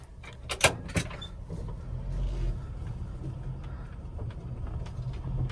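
Honda Acty mini truck with an eight-speed transmission creeping along in ultra low gear, a low, steady engine and drivetrain rumble heard from inside the cab, with a couple of sharp knocks near the start.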